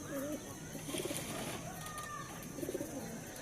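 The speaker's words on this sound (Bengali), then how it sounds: "রেড আইস চোখের পায়রা" A red-eyed pigeon coos in short, low, throaty bursts, two clear phrases about a second and a half apart, close by in a loft, while people talk nearby.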